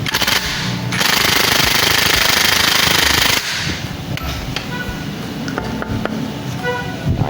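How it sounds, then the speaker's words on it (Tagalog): A pneumatic impact wrench works on the CVT of a Yamaha Aerox 155 scooter, hammering loudly in a dense, sustained rattle for a couple of seconds, then continuing in rougher bursts amid shop noise. "Tapos gamit kayo ng impact."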